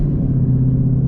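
A deep, steady engine rumble from an E85-fueled Mustang GT on the road, loud and close, with a low drone and no talking.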